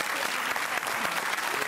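Studio audience applause fills a television music quiz show, dense and steady clapping from a sizeable crowd throughout, close and loud with no pauses.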